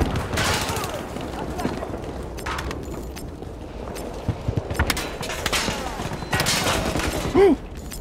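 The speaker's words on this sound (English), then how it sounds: "A lot of people are shooting." Battlefield 2042 hardcore combat carries steady distant gunfire, a rolling fusillade of scattered shots and bursts that goes on throughout, with a few sharper nearby cracks and a faint voice underneath.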